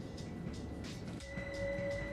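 A BR Class 377 electric train rolls along in Train Sim World 2 with a low rumbling run and faint rhythmic wheel clatter, and a steady whining tone rises near the end.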